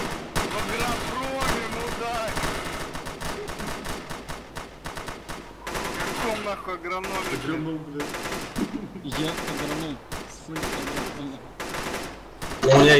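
Sustained gunfire in the military shooter game ARMA 3: dense bursts of automatic weapons fire and shots crackle almost continuously, loud and close, with people talking over the fighting.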